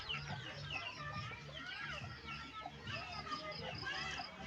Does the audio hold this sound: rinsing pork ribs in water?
no